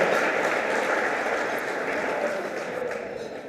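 Audience applause at a fundraising night, honoring two people who have just shared their personal stories; steady, dense clapping holds fairly loud through the whole stretch, easing slightly toward the end.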